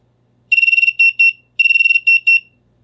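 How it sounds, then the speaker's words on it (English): Piezo buzzer driven by a Raspberry Pi Pico gives a loud, close electronic warble: a fast run of rapid pulsing chirps followed by two longer tones, the pattern repeating twice in quiet surroundings. "This one will create an oscillating sound along with that 2 kilohertz frequency beeping"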